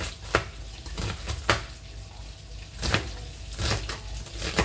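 Knife dicing an onion on a cutting board in a home kitchen, with a few sharp, separate chops over a steady background hiss.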